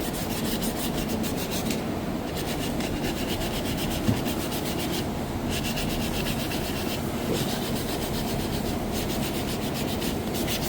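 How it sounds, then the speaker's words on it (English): Wood is sanded during a kitchen remodel, a steady, close, rhythmic rasping scrape that continues unbroken for the whole stretch, with no one speaking. "Sand all that right off."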